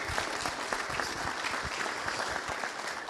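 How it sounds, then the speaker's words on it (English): An indoor audience at a political forum applauds the county honor guard, a steady, moderately quiet patter of many clapping hands that neither swells nor fades. "Let's give them a round of applause here inside."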